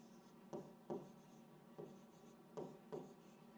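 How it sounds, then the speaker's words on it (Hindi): Marker strokes on a board during a classroom reasoning lesson, several distinct squeaky scrapes in quick bursts, close and clear with no talk over them. "यह वर्ड मैं यहाँ पे लिख रहा हूँ"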